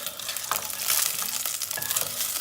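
Hot oil sizzles steadily in a pan on a home stove while a utensil stirs and scrapes through it, the frying loud and close with no voices.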